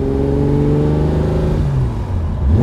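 A 1968 Ferrari 365 GT 2+2 'Queen Mary' with its V12 engine pulls hard under acceleration, a loud steady roar that drops in pitch at a gear change and then climbs again.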